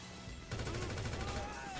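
Gunfire in GTA, a burst of dense, crackling shots that starts abruptly halfway through and continues loud to the end, with a voice mixed in.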